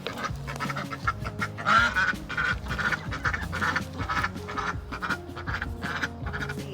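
Ducks quacking in a backyard near cut grass, a busy run of repeated close quacks and honks from several birds, loudest about two seconds in.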